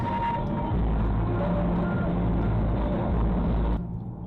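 A decal-covered truck on a road, its engine rumbling loudly and steadily throughout before cutting off near the end, with a faint repeating reversing beep underneath the heavy drone.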